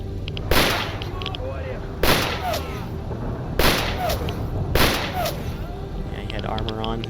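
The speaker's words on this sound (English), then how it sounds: "Gunshots in this game." Gunfire in the game S.T.A.L.K.E.R. Anomaly: four loud, booming single shots spaced about a second and a half apart, each with a reverberant tail, over steady background ambience.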